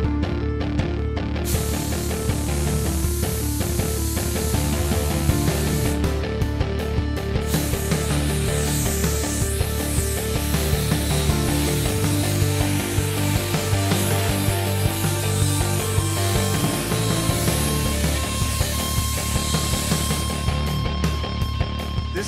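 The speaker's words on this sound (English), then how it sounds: "You're gonna paint something with nitrogen" A Nitromax 30 nitrogen spray gun laying down paint makes a steady, loud hiss that runs continuously for the whole stretch, with a mechanical hum beneath it.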